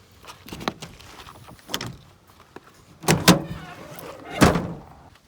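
The back window of a truck camper is slid and latched open in a few short, close knocks and scrapes of the frame, separated by quiet pauses, with two louder clunks near the end.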